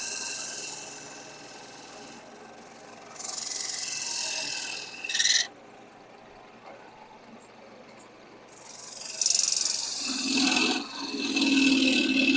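A wood lathe spins as a gouge cuts the turning wood, producing alternating rough scraping bursts and quieter whirring stretches, with a resonant chattering tone near the end.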